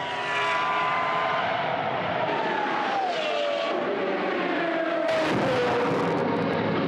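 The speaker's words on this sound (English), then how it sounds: "Let's listen to the Aussie Brabham coming around here" An Australian Brabham race car at a World Time Attack Challenge track event sweeps past, its loud, sustained engine note dropping in pitch as it goes by. A sharp burst of added noise cuts in near the end.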